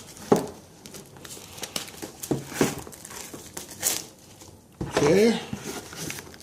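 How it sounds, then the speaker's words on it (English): Knife slicing and tearing into a crushed, shrink-wrapped 1996 PC game box, with crinkling plastic, rustles and short ripping bursts in uneven spurts, close by, and a brief spoken word. "This is probably the easiest, is to cut it where it's puffed out"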